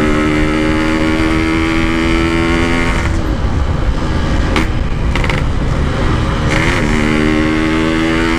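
A Yamaha RX King two-stroke motorcycle revs loudly and continuously up close, its engine note rising and dipping through several throttle blips with no talk over it.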